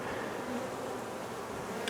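Honey bees buzzing around a trap-out set up on a building, a dense, continuous hum of many insects close by with no voices.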